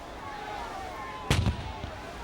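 Naval cannon fire between sailing warships at Trafalgar, a single sharp booming report followed by a smaller echoing crack, over a faint low background with distant tonal sounds.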